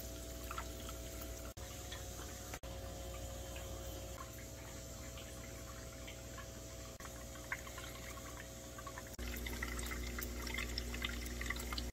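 A Vasa aquarium sponge filter outlet runs at low flow and is lowered below the water surface, giving a faint steady watery hum with soft bubbling, shifting in tone partway through.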